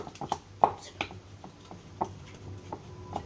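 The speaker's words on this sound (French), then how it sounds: "Et après, on mélange avec une cuillère en bois." A wooden spoon working oat and chocolate chip dough in a bowl, with irregular soft knocks and scrapes, a few sharper taps against the bowl, and some quiet talk in the background.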